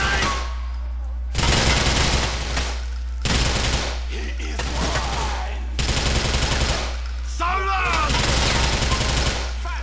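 Automatic gunfire in GTA IV comes in loud, repeated bursts of a second or two, separated by short quieter gaps, with a voice faintly mixed in.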